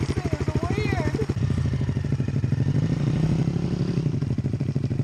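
A motorcycle engine runs close by with a fast, pulsing mechanical chatter that stays steady and loud throughout, with a brief whining tone early on over a person talking.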